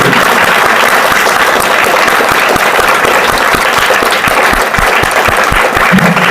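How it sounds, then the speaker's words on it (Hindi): Sustained applause from a school audience honoring teachers at a Teachers Day celebration, dense steady clapping throughout, loud and close, with no speech over it. "इन चारों लोगों के लिए लगातार 30 सेकंड तक ताली मिलनी चाहिए"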